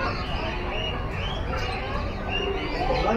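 Birds in an aviary at Alipur Zoo give soft cooing and scattered chirps, half-buried under a steady murmur of visitors' voices and crowd noise.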